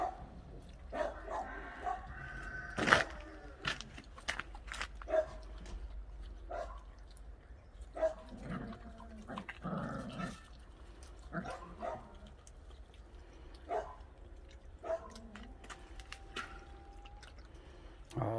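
Small 40-day-old puppies yip and bark intermittently at close range, with short whimpers and scattered clicks and taps between the barks.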